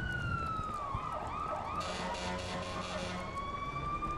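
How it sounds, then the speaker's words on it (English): A video game police car siren wails with slowly rising and falling tones as a vehicle passes, moderately distant, with a steady background rumble and no talking. "Sounds like there's police going past, or, well, that didn't sound like a police car."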